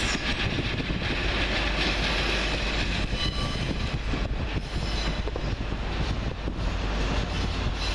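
A Class 142 Pacer train, unit 142036 from Sheffield, rumbles past close by, loud and sustained, with rhythmic wheel clatter, some squealing and wind buffeting the microphone.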